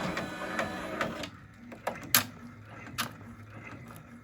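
An embroidery machine stitching a design in white thread, rapid mechanical clicking and whirring that fades into quieter intermittent ticks and taps, close and moderately faint.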